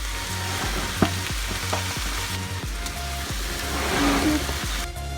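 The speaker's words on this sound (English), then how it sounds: "We got the tofu in there so far, the onions, garlic, and mushrooms, sauteing in olive oil." Tofu, onions, garlic and mushrooms sizzle steadily in olive oil, with a rhythmic series of spatula scrapes and stirring knocks over the continuous frying hiss, close up and without talk.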